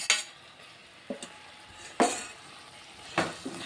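Drumsticks being stirred into a sizzling tomato curry in a pan, a spoon scraping and clinking in several separate strokes over a steady frying hiss, close and moderately loud with no talking.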